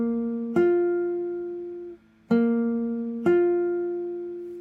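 A classical guitar plays a two-note interval with both notes at equal volume. Three plucked attacks ring out clearly and decay between strikes, close and alone with no talking.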